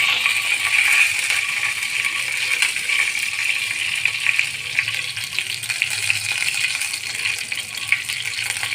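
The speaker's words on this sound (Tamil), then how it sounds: "கொஞ்சம் கடலைப்பருப்பு, கொஞ்சமாக சீரகம், இதை நல்லா இப்போ ஃப்ரை பண்ணிக்கலாம்." Chana dal and cumin frying in a pan make a steady close sizzle with crackling pops and light scraping, holding at an even level throughout.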